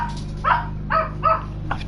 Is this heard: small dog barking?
yes